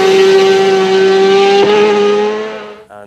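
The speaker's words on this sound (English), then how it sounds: "super bikes with more than 200 brake horsepower, big sticky fat tyres on them" Superbikes of more than 200 brake horsepower on big sticky tyres racing at the Isle of Man TT, a loud sustained high-revving engine howl at close range that holds steady, then fades away near the end.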